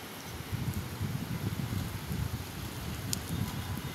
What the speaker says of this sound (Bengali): তবে কাছাকাছি বৃষ্টি জোরেই হচ্ছে